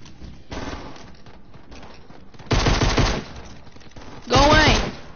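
Gunfire in Fortnite comes in three separate bursts of rapid automatic shots, the last two loud and close, with brief quieter gaps between them.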